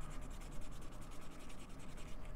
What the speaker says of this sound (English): it's not going to be one pass of sanding and making it smooth